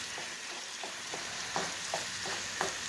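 Taco meat with chopped jalapenos simmering in a pan, a soft steady sizzle with periodic clinks and scrapes of a utensil stirring, close and fairly quiet.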